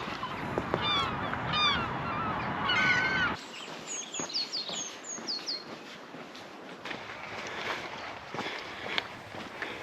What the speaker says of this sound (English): all the herring gulls are out